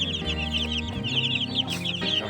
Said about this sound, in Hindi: आगे देखिए, मुर्गा भी खाई जा रहा है